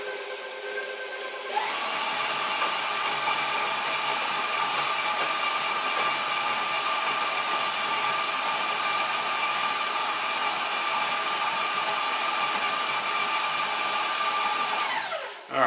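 A KitchenAid stand mixer mixing Christmas cookie dough starts up after a brief quiet moment and then runs with a steady, close, high motor whine for over ten seconds before cutting off at the end, with no talk over it.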